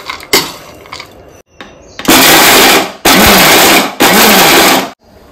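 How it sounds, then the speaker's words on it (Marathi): A kitchen mixer grinder coarsely grinding dry fruits in three loud pulsed bursts of about a second each, separated by brief pauses, after a few quieter handling clatters at the start. "ड्रायफ्रूट मी भरड करून घेणार आहे मिक्सर मध्ये"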